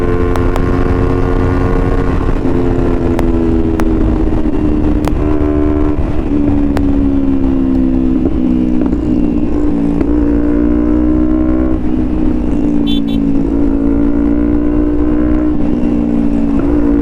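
A Jawa motorcycle ridden at speed, its engine droning loudly and rising and falling through gear changes, steady and close with wind noise throughout.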